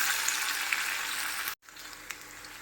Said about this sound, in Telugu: తర్వాత ఆనియన్స్ వేసి ఫ్రై చేసుకుందాం